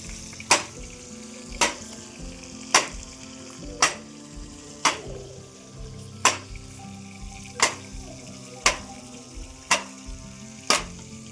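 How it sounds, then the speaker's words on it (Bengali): Fish frying in a pan for a Bengali fish curry, a steady sizzle under a sharp, regular tapping about every second that sounds like a utensil knocking on a board or pan. "মাছ এদিকে ভাজা হচ্ছে"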